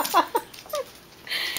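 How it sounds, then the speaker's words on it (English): A dog whimpering indoors, a few short high whines and squeaks close by, followed by a brief rustle. "Look at your vicious dog."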